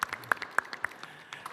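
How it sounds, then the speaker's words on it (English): Sparse, scattered claps from a small audience at an international conference session on Ukraine, faint and irregular, with a handful of distinct hand claps spread over a short moment. "So please give some applause, and also applauses to the mayor of Rzeszów."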